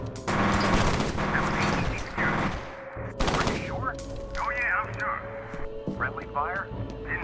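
Heavy automatic gunfire in the first-person shooter F.E.A.R. rattles loudly in sustained bursts, with shouted voices, radio chatter and other battle noise mixed in.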